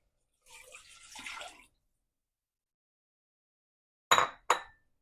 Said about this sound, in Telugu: బ్రాత్ని ఇందులో వేసుకుందాం.